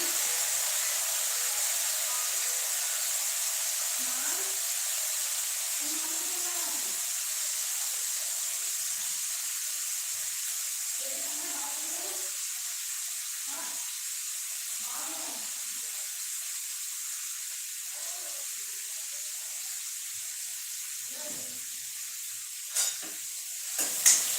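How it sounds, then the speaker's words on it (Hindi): Tomatoes go into a pan of fried onions and sizzle with a constant soft hiss, broken by intermittent soft stirring scrapes and a couple of light clicks near the end. "प्याज जो है अच्छा से भून के तैयार हो गया। अब मैं डाल रही हूँ उसमें टमाटर।"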